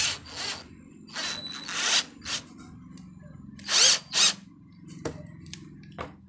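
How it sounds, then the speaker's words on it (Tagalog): Cordless drill fitted with a concrete drill bit, run in about eight short bursts of high whirring revving up and stopping, close and loud, with quiet pauses between. "Ngayon kung sa concrete mo gagamitin, bibili ng para sa concrete na drill bit ito."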